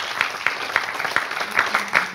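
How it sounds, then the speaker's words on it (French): Sparse applause from a small group at a regional conference on emergency care, with individual claps coming through distinctly at an uneven rhythm for a couple of seconds. "Oui, vous pouvez l'applaudir, mais applaudissez les autres."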